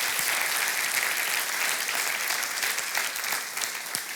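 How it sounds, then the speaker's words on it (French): A church congregation at a morning service gives sustained, dense applause, with many hands clapping steadily and evenly throughout. "on peut donner une acclamation au roi des rois ce matin."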